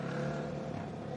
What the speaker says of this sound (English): Maybe like an exhaust breaking off a little bit.